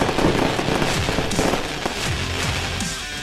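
Fireworks bursting continuously at a minor league ballpark's opening-day celebration, a dense rapid run of crackling pops and booms with no gaps.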